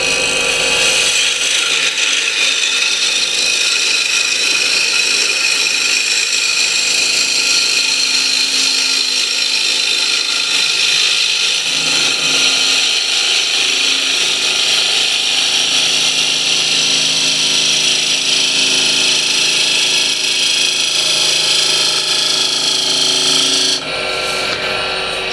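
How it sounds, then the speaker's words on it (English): A bowl gouge takes a shear cut along the side of a turning wooden piece on a lathe, a loud, steady hissing scrape that runs unbroken before cutting off abruptly near the end. "nice shear cut with the bowl gouge here on the side"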